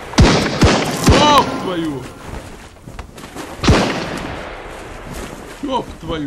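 Pistol shots crack out in Sunkenland, a handful of sharp, loud reports in quick succession with a couple more later, while someone shouts excitedly over them.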